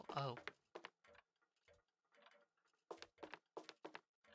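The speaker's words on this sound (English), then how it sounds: "Fantastic. We have clocks. Creepy clocks." Creepy clocks tick in the video game Ravenlok, a faint, fairly regular run of soft ticks that follows a brief burst of voice at the start.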